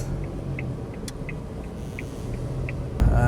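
Suzuki Alto car driving on a road, a steady low engine and tyre rumble filling the interior, with faint clicks and a louder thump near the end.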